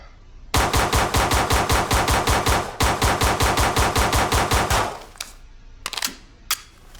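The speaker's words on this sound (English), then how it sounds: "M17 mag dump." Rapid string of about twenty close, loud gunshots from an M17 pistol emptying its magazine in a supported firing position, evenly spaced with a brief hitch midway, followed by a few scattered clinks.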